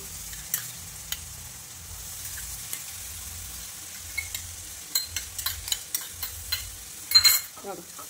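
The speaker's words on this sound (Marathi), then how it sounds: "ही डाळ चांगली परतून घ्यायची, खूप छान लागते." Soaked moong dal is sautéed in a pan, a soft sizzle under a rhythmic series of spatula scrapes and taps that grow busier toward the end, with a low hum running beneath and no talk.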